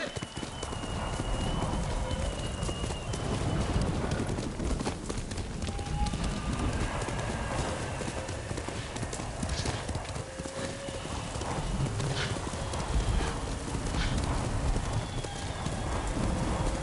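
Horse hooves clip-clop steadily through the whole stretch in the Ghost of Tsushima video game, with occasional whinnies and a soft rain-like ambience beneath the rhythmic footfalls.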